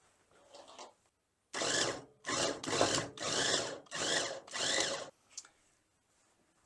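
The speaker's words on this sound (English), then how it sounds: "Toss that all in. Close the lid. Put a motor on." An electric food chopper runs on ingredients for a Bulgarian Christmas Eve dish, with five loud whirring bursts separated by short pauses, close by, after a faint quieter rustle at the start.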